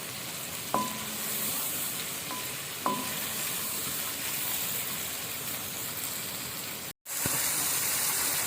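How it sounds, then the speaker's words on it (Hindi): Chicken with turmeric and cumin powder frying in a pan for a chicken palak masala, a steady close sizzle with a few clinks of a spoon stirring, briefly cut off near the end. "अच्छी तरह से भूनें।"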